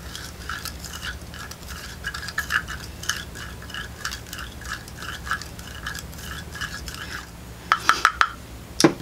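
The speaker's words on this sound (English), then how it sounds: "And just stirring that up." A homemade vitamin C face serum mixture is stirred in a small container, giving soft rhythmic scraping and clinking strokes, with a few sharper taps near the end; no talk.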